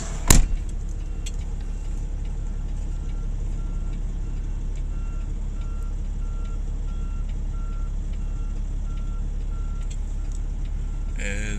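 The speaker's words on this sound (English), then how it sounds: "As the payloader comes back into position in frame" Backup alarm of a payloader reversing at an oil rig dismantling site, a steady train of evenly spaced electronic beeps over a constant low engine rumble, fairly close, with a sharp knock at the start.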